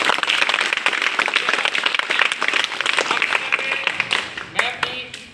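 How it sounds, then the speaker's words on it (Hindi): Lively audience applause at a gathering, made of close, crisp individual claps that build into a dense, loud patter and then thin out into scattered last claps near the end. "मैं चाहूंगा एक बार तालियां बजा दो।"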